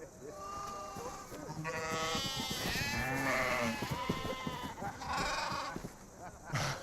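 Sheep bleat over a rural pastoral scene in a Christmas nativity drama, several wavering calls in the middle distance overlapping with people talking.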